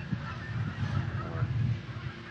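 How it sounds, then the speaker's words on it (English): Canada geese honk at the stilling basin of Mount Morris Dam, several close, overlapping nasal honks over a steady rush of water. "You can see the Canada geese coming in to hang out here for a while with us."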